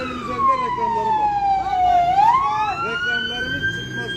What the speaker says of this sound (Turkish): Evet, şu anda bir ambulans var.